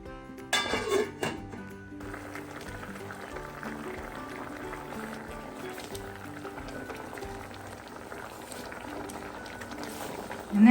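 A pot of curry simmering and bubbling on the stove with water added, a steady low boiling texture running throughout after a few louder clinks and handling noises at the start.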